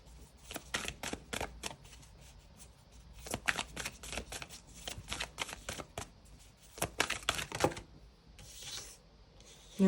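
Tarot cards are shuffled close by in quiet, repeated riffling bursts of varying length, separated by short pauses.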